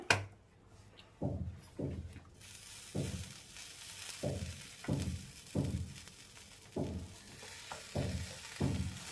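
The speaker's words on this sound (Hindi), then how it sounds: "तो अब मैं तवे पे अपने ये सारे ब्रेड रख दूंगी।" Garlic bread slices set on a hot tava give a soft sizzle, with a sharp knock at the start and then a regular series of faint, rhythmic thuds or scrapes roughly every second over a low background hiss.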